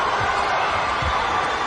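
A basketball arena crowd in a college game between Texas Tech and Texas fills the space with a steady, broad roar of cheering, continuous and fairly loud, with faint low thumps underneath.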